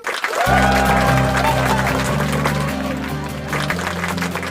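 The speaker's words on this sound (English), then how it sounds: "Can you hear the people cheering?" A circus crowd cheers and applauds as a sound effect in a Dumbo read-along, a loud, steady wash of clapping and cheering layered over a low sustained musical backing.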